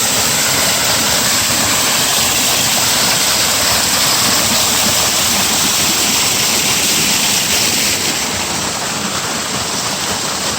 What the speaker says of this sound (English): Near this waterfall.